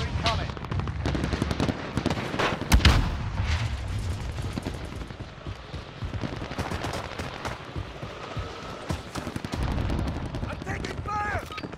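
Gunfire from a Call of Duty Warzone Zombies match: dense bursts of automatic shots and heavy booms keep going throughout, with players talking over the game audio.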